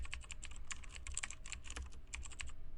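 Rapid, close key clicks from a computer keyboard, typed in a quick uneven rhythm with no talking.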